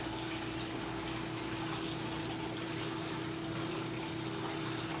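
Water drains steadily through the siphon line of an aquarium overflow box, a constant close rushing and gurgling flow with a low steady hum underneath, unbroken throughout and with no talking.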